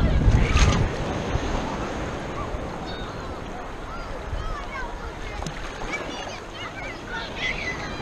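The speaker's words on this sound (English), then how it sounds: "Pushed around by the waves right now." Ocean waves slosh and surge around a small boat off Tybee Island, with a heavy splash at the start followed by continuous churning water and wind buffeting the microphone.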